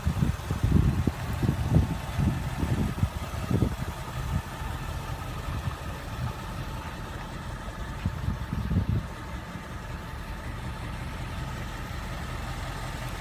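A 2015 Ford Mustang GT Premium 50th Anniversary Package idles with a deep, close rumble. A few throttle blips early on give way to a steady, even idle.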